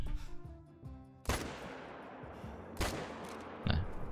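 Three loud hunting rifle shots in the video game theHunter: Call of the Wild, during a reindeer hunt, crack at spaced intervals, each trailing into a long echoing rumble over a low droning background.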